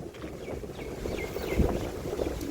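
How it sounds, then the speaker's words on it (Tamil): Wind gusts steadily across an open microphone outdoors near water, a continuous low rumbling buffet lasting a few seconds with no talking over it. "காற்று வேற அடிக்கு"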